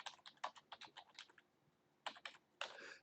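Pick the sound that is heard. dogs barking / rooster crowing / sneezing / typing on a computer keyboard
typing on a computer keyboard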